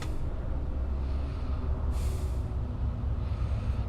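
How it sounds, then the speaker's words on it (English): A Class 70 locomotive brakes in a train simulator on a South Wales coastal line: a steady low rumble runs throughout, broken by a short, sharp hiss of air brakes midway. "Oh, we're braking rather than accelerating."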